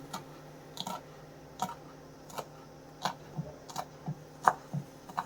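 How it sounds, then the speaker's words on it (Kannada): A knife finely chopping two green chillies on a board for pumpkin palya, a steady run of crisp, close taps about every half second, with no voices. "ಎರಡು ಹಸಿರು ಮೆಣಸಿನ್ಕಾಯಿನ ಸಣ್ಣಗೆ ಕಟ್ ಮಾಡ್ಕೊಳ್ತಾ ಇದ್ದೀನಿ"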